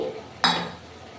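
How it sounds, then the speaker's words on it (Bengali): A single metal clink as a utensil scrapes and stirs ridge gourd and okra in a cooking pan, a brief bright knock followed by a fading ring, alone and close. "এই ঝিঙে ঢেঁড়স সালুর সাথে খুব ভালোভাবে আমি এটা কষিয়ে নিচ্ছি"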